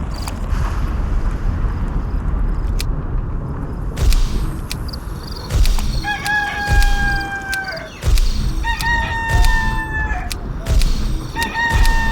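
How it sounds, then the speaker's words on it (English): A video game rooster crows repeatedly in short, rising electronic-sounding calls over a low noisy background, with sharp clicks and thumps between them and the crowing growing more frequent toward the end. "Roosters always crow when the sun comes up."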